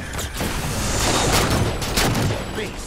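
Turrets firing in Halo 4 multiplayer on the Exile map, dense rattling bursts and booms rolling through a loud battle with voices under it.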